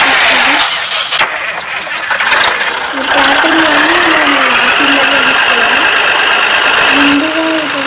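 A game car's engine hums and shifts pitch steadily as the vehicle drives in a supermarket-themed driving simulator, fairly loud and continuous, with brief clicks and a short dip early on.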